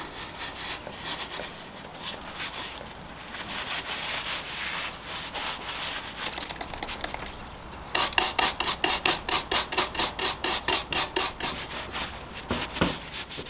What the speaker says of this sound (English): I'll clean this up with some denatured alcohol and some fine steel wool